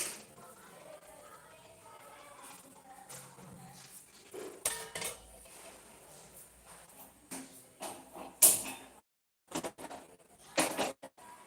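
Pans and utensils handled in a home kitchen while starting to cook dosa: scattered clinks, clatters and knocks at irregular intervals, faint to moderately loud, with quiet stretches between.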